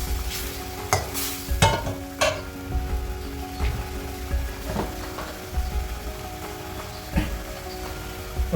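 Pieces of rohu fish go into a pan of frying spice paste, giving a steady close sizzle with a few sharp clatters and utensil scrapes near the start.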